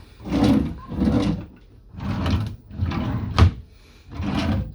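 A wooden drawer in a Carnival Miracle cruise ship oceanview cabin slides open and shut several times in a row, each rumbling glide followed by a soft thump, close by.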